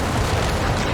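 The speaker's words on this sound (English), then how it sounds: "AT grenades coming in." Anti-tank grenade blasts in Company of Heroes 3 form a dense, continuous rumble of explosions, loud and near, with no voice over them.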